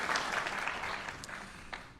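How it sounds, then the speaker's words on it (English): Audience applause at Chicago's Veterans Day ceremony, a steady wash of clapping from a crowd that slowly thins and fades over two seconds. "let's give him a nice round of applause, Mr. Barces"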